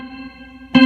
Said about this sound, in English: can hear that little like reverb